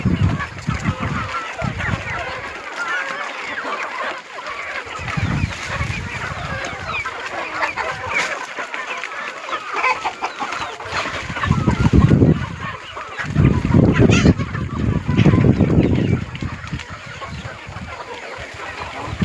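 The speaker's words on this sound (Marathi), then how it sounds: "गावरान पक्षाला हे बघा पपईचा पाला किती आवडीनं खातात" Native country hens peck at and eat papaya leaves, with continuous close clucking and honk-like calls that swell louder in bursts toward the end, rustling beneath and no talk.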